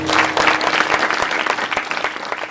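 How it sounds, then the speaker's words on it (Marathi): An audience claps loudly and continuously at a devotional talk, a dense wash of many hands with no voices over it. "जोरदार टाळ्या वाजवा"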